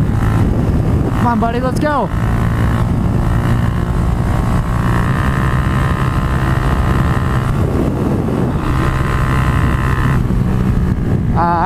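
Yamaha FZ-07 motorcycle engine roaring steadily while racing a Camaro on a canyon road, with heavy wind buffeting throughout and someone speaking briefly over the noise near the start.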